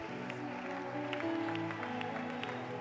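A church congregation claps and cheers during worship, a dense wash of applause mixed with music and voices that swells slightly midway and continues throughout.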